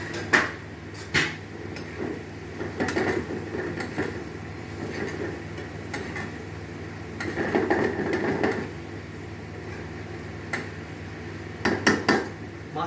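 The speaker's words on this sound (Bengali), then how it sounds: "এবারে আগে থেকে ভেজে রাখা পাবদা মাছটা আমি এবার গ্রেভিতে দিয়ে দেবো।" Pre-fried pabda fish placed into gravy in a pan, heard as quiet clinks and knocks of utensils against cookware over a low simmering background, with several louder clatters near the end.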